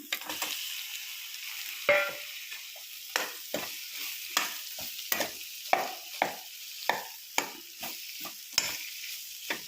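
Mashed boiled raw banana frying in a pan for a banana curry: a soft background sizzle cut by a steady series of spatula scrapes and taps roughly every half second, close and without speech.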